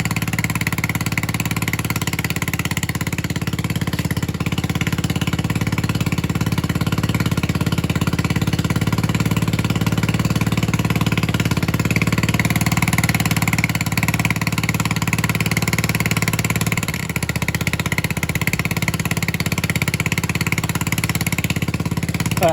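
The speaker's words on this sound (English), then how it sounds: "Just adjusted the idle screw." A Honda postie motorbike idling after an idle screw adjustment, its exhaust leaking, giving a steady, loud, unbroken low engine drone with a constant rough hum throughout and a brief dip near the end.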